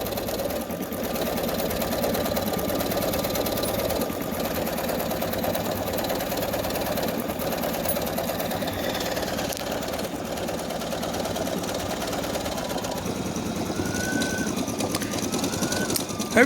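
A Brother NQ1700E embroidery machine stitches the underlay of a butterfly design, giving a steady, close mechanical whir with a fast, even stitching rhythm that runs without a break from start to finish.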